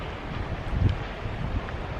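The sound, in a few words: wind blowing on a mountain hike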